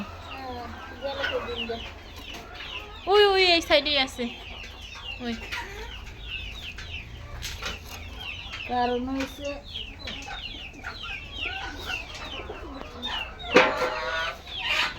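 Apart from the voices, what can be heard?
hens clucking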